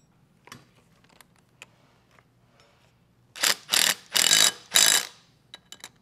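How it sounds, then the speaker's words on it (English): Locking nuts being tightened with a ratchet on the back side of a cultivator finger weeder assembly, heard as four loud, close bursts of rapid clicking, each about half a second long, following a few scattered faint clicks and bumps. "adding those locking nuts on the back side"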